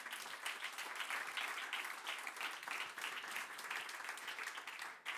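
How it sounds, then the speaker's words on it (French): Steady, dense applause from an audience at a public unveiling event, many hands clapping together without a break, fairly loud and even throughout. "On peut t'applaudir."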